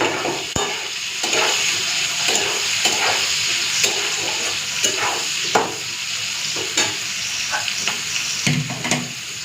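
Chopped onions and green chillies fry in oil in a pan, making a loud steady sizzle with repeated scraping stirs at a slow irregular rhythm.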